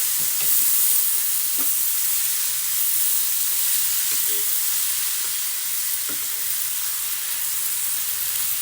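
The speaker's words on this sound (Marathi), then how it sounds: "आता मी भाजी टाकून एक वेळेस फ्राय करून घेते म्हणजे खालीवर करून घेते" Chopped vegetables tossed and stir-fried in a pan for a quick tiffin dish, a loud continuous sizzling hiss with occasional soft utensil taps, no one speaking.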